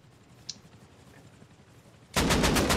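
Automatic gunfire in the video game Rust Console Edition: after a quiet stretch with a faint click, a loud rapid burst of evenly spaced shots erupts and continues to the end.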